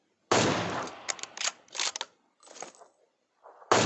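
Gunfire in PUBG Mobile, a Solo vs Duo match with M416 and AWM weapons: a loud shot, then a string of quicker bursts and scattered shots, ending on another sharp blast.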